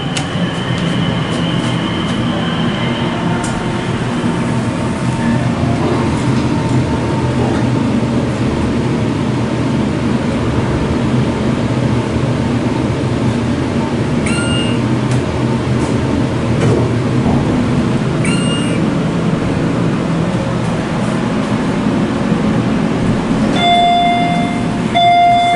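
Left elevator car at Disney's All Star resort riding between floors, a steady loud mechanical rumble and hum throughout with a few brief tonal beeps and a short chime near the end.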